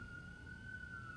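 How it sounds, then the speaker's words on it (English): Distant emergency sirens wail faintly in the background, a single steady high tone held across a short stretch beneath low room noise. "sorry about the sirens in the background there."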